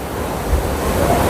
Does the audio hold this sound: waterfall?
yes